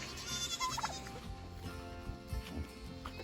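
Faint, thin bleats from a young goat in a noisy, cluttered background, brief and scattered over a few seconds.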